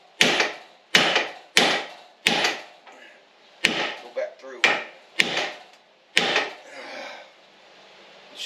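Heavy metal-on-metal hammer blows strike a Chevy Suburban U-joint, about nine loud sharp impacts in an uneven rhythm, each ringing briefly before the next, close by.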